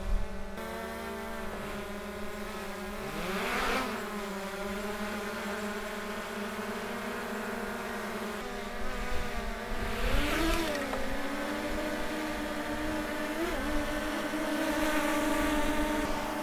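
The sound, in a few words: three DJI drones flying, propeller buzz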